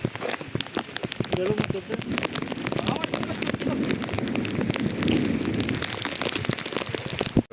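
Monsoon rain falls steadily on a trek from Panhala to Pawankhind, a dense, loud patter of drops hitting surfaces all around, continuous from start to finish.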